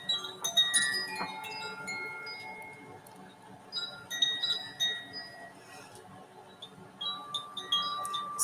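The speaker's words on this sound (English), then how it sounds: "And I'm going to grab the chimes while I read those." Hand chimes struck during a morning prayer reading, several bright metallic tones ringing out and overlapping, decaying slowly, fairly soft and close with no talking.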